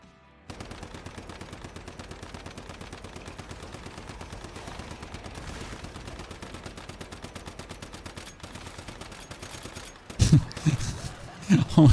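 Rapid automatic gunfire from shooting an enemy in the video game Once Human: a steady stream of evenly spaced shots for about ten seconds, then a few louder, heavier bursts near the end.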